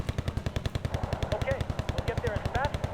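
Rapid, steady bursts of machine-gun fire from LAVs being sniped on the battlefield in Wargame: Airland Battle, loud and rhythmic, with a faint voice murmuring underneath.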